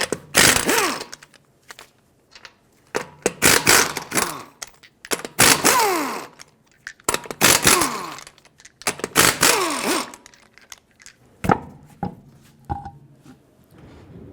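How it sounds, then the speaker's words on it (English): Bursts of an impact wrench spinning off the five wheel lug nuts of a Dodge Grand Caravan with a 19mm socket, each loud whirring burst separated by short pauses, close up and without talking. "Take a 19mm socket, remove all 5 of your lug nuts,"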